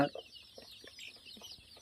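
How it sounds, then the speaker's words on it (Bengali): Chicks cheeping and clucking in short, scattered calls over a soft steady background hiss, close by with no talking. "দেখেন সবাই, খুব সুন্দর মুরগির বাচ্চা।"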